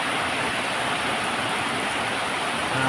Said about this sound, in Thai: เห็นฝนตกนี่